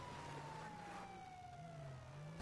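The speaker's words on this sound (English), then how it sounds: "that police car that has sirens going off that is currently sliding down the hill" A police car siren in the video game GTA Online wails steadily throughout, a sweeping electronic tone held above a low engine-like drone, loud and close with no talking.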